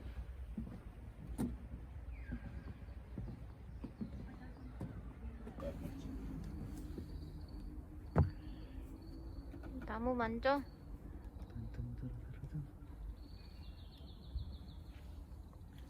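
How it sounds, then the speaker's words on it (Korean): Birds call outdoors among trees on Jeju Island, faint cooing and brief chirps in the distance, under light background noise and occasional nearby talk. "새소리 난다."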